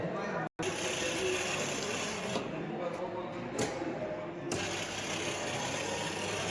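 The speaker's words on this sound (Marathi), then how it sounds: "ही वायपर मोटर ऑन केल्यानंतर कशी फिरते इकडून दिसत" Car wiper motor switched on and running, a steady mechanical whir holding at moderate level through the whole stretch, broken by one brief dropout near the start and a few faint clicks.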